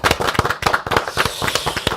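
A few people in a studio clap their hands together in a quick, uneven burst of sharp, close claps lasting a couple of seconds.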